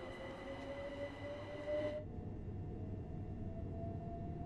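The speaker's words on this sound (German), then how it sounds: "Wir werden jetzt auf das andere Gleis wechseln." A train in the Train Sim World 2 Brighton Main Line route crosses over to the other track. A thin wheel squeal rings over a low rolling rumble, then cuts off midway and leaves a quieter steady drone.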